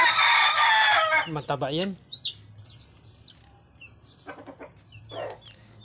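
Chickens, including rejects being sorted for culling at a Filipino poultry yard, cluck and squawk in short bursts, with one drawn-out crowing call, while a person talks nearby at the start and in between.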